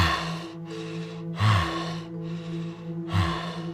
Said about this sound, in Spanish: escuchó una respiración. Alguien cansado,